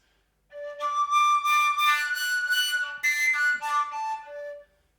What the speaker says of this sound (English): When you would think H and try to breathe into the flute, it would sound like this.